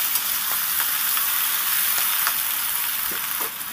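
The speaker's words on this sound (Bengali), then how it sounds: "কুঁদরি আর আলুটা আমার ভাজা হয়ে গেছে" Kundri (ivy gourd) and potato pieces frying in oil in a pan, a steady loud sizzle with scattered crackles and the scrape of stirring, no voices.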